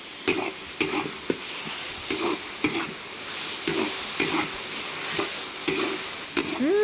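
A spatula clatters in a wok as garlic stir-fries with soy sauce for a pork and chili dish, and repeated scraping strikes sound over a constant loud hiss of sizzling.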